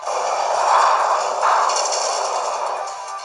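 A loud, sustained blast of roaring noise from the Boomburst sonic attack in Pokémon Ultra Sun, swelling and holding for about three seconds.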